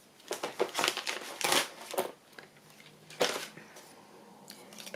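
Florentine paper is torn and crinkled by hand for a journal page, a burst of crisp tearing and rustling followed by a few softer crackles, close and clear with no voices.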